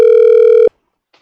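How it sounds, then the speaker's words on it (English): A single loud electronic telephone tone sounds for about two-thirds of a second and then cuts off abruptly, leaving silence with a faint click afterward. It is an outgoing call that goes unanswered. "when we call in, he not answer the phone"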